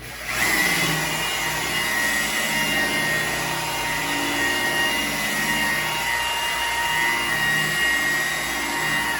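Polisher with a white foam pad spinning at around 1,000 RPM on a painted surface, a loud, steady motor whine and whir holding constant throughout with no voices.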